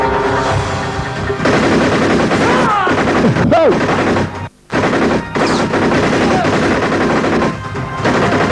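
Loud bursts of gunfire crackle almost continuously, rapid shots and crashes layered densely with a brief drop to silence midway, then the barrage resumes at full intensity.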